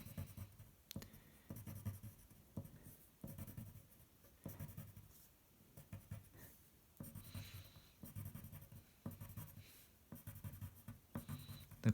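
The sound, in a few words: drawing with colored pencil on paper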